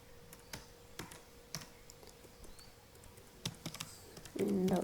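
A command typed on a computer keyboard, sparse close key clicks tapping out a few characters with short pauses, ending in a louder press and a brief muffled bump.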